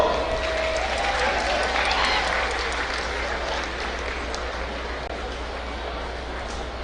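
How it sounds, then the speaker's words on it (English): An audience at a school relay event at a college stadium breaks into sustained applause, a broad, steady clapping crowd heard at a distance that holds for several seconds and slowly fades slightly. "Let's give ourselves a big round of applause."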